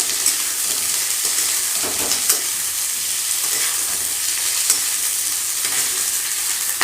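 Onions fry in hot oil in a pan, making a loud, close, continuous sizzle with faint stirring and no talk.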